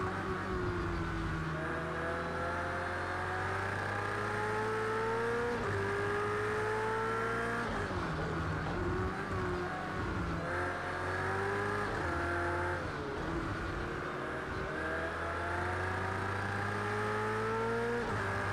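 BMW race cars in the Project Cars 2 racing game hold a loud, continuous engine drone, rising through gears with repeated upshifts and revs, up close and without talk.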